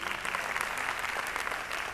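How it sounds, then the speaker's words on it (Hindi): An audience at a success-story event in Kolkata claps loudly and steadily for a guest, a dense, continuous wash of applause with little talk. "मैं चाहूंगा के लिए जोरदार ताली होनी चाहिए।"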